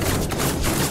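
Gunfire in an Uncharted-style action video game, a dense continuous burst of shots filling the brief moment, loud and up close with no talking.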